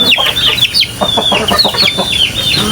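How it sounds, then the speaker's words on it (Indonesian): Several chickens cluck close by in an abandoned village beneath Mount Merapi, a busy overlapping chorus of loud, rapid clucks and squawks with no voices among them. "Ayam, kalian jangan deket-deket aku karena aku nggak punya makanan ayam ya."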